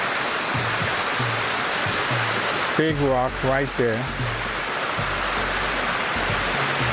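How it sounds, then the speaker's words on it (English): Water flows down a ravine on wooded grounds at Life University in Mableton, a steady broadband rush running the whole time, with someone speaking briefly in the middle over it. "As the water flows down here across this ravine."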